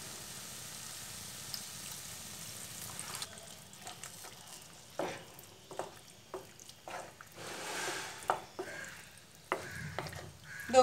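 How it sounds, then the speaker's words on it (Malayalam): Tamarind water is poured into a simmering bitter gourd curry in a pan, bringing a soft bubbling sizzle followed by scattered stirring scrapes and splashes, close and fairly quiet. "പുളിവെള്ളം ഒഴിച്ചു കൊടുക്കാം."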